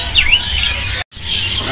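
A songbird sings at a bird market, giving clear high chirps and whistles over a steady noisy background, with a brief cut partway through.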